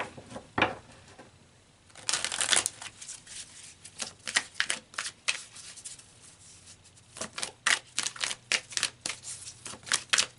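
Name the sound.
tarot cards being shuffled and drawn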